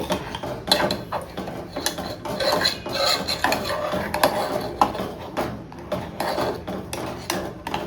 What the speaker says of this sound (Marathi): आता हे ड्रायफ्रूट्स यामध्ये टाकून घेते आणि थोडं हलवून घेते